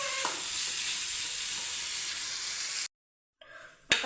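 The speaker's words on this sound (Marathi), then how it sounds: "आता गॅस मी वाढवते आणि चांगलं कारलं भाजून घेतं पाहिजे" Bitter gourd (karela) roasts in a pan over raised heat, hissing and sizzling loudly and steadily for nearly three seconds. It cuts to silence, then a shorter burst of sizzling returns.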